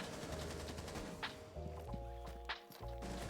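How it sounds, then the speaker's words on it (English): Gunfire in Rainbow Six Siege, a few quick bursts of shots and sharp impacts heard within the game's layered ambient tones and footsteps, fairly quiet and close. "I hear him shooting, pre-firing"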